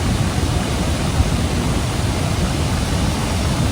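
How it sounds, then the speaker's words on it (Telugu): Athirappilly waterfall in Thrissur, Kerala, roars as a steady, dense wash of falling water, close and unbroken throughout. "Baahubali water falls"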